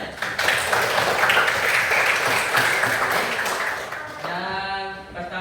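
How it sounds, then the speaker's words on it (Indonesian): A classroom of students claps for their classmates during a teaching-practice lesson, a dense, steady patter of many hands that fades after about four seconds into a quieter tonal sound. "tepuk tangan untuk teman-temannya"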